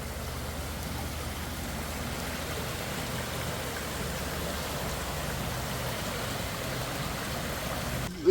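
Creek water rushing under a bridge at Anderson Creek, a steady broadband wash of flowing water heard up close without pause.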